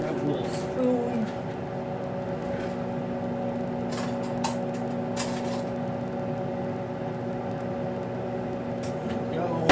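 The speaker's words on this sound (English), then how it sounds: "we're going to put it in our microwave for 1 minute" A steady low hum of an appliance running close by, with a few faint clicks and rustles over the drone.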